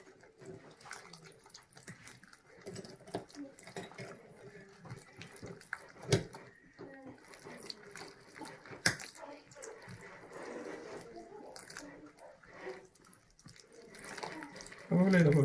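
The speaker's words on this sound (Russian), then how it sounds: "Давай, добавляй воды." Water trickles and splashes in irregular spurts close by as it is poured into a mixing bowl for homemade pizza dough, with people talking over it now and then.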